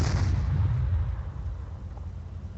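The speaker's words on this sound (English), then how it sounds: "I probably can switch to HET, high explosive rounds for the cannon." The last of a tank cannon shot in ARMA 3 rolls on as a deep, loud boom from a high explosive round, with low rumble echoing and slowly decaying across the whole clip and no talk over it.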